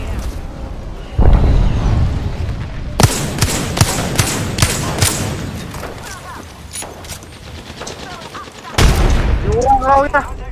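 A grenade blast from a video game firefight booms low and heavy, followed by a rapid string of loud gunshots and another deep explosion, with voices calling out over the action.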